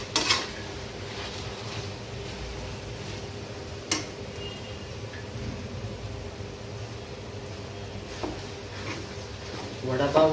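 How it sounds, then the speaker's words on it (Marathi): Mashed potato filling for vada pav is stirred in a pan in a home kitchen, with soft scraping and occasional clinks of the utensil, quiet and steady under a background hum. "आता हे छान आपल्याला मिक्स करून घ्यावं लागेल."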